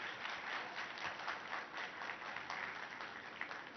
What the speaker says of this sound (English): So let's give him a very warm round of applause.